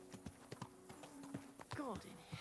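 Horse hooves clip-clop at a walking pace in the medieval game Kingdom Come: Deliverance 2, a handful of soft, near hoofbeats under a voice talking.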